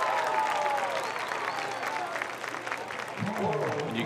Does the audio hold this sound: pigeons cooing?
no